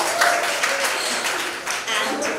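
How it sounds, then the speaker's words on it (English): An audience at a book launch cheers and applauds in a steady, dense wash of clapping and whoops, with voices mixed into the crowd noise throughout. "Let's have a huge cheer for them again."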